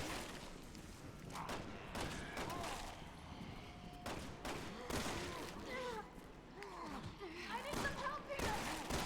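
Gunfire in Resident Evil 6 co-op play: repeated sharp shots crack out in uneven bursts amid thuds and game noise, fairly close, with a voice talking in between.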